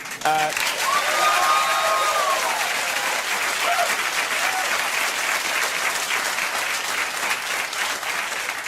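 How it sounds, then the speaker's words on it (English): Studio audience applause at a late-night talk show, a thick continuous roar of many hands with some cheering, steady and loud for the full stretch, with a brief whoop or voice rising early on. "Applause really wasn't necessary."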